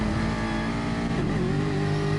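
Engines of GT4 race cars in a racing video game, loud and steady with layered droning tones, one engine note dropping and shifting mid-way as the cars brake into a left-hand corner and accelerate out.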